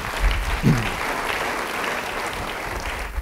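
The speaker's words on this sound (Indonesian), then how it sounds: "Yang setuju beri tepuk tangan bagi dia." A church audience at a sermon applauds, with dense, even clapping from many hands that stays steady and fairly loud throughout.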